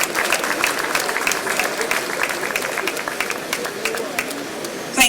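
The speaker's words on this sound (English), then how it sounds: "I think we can give him a bigger round of applause" Audience applause at a Lagos launch event for the Produce for Lagos programme, a dense, sustained round of clapping that rolls steadily for several seconds before a short louder burst at the end.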